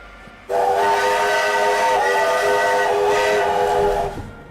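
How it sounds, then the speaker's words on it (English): A loud, sustained train whistle in a Sniper Elite video game blows for about four seconds, a shrill chord-like steam blast starting abruptly and fading at the end. "shout out to this train whistle for absolutely scaring the shit out of me."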